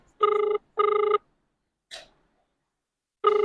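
Mobile phone ringing on a dairy farm, loud short electronic trills in quick bursts with silent gaps, one brief faint chirp between them, no talk.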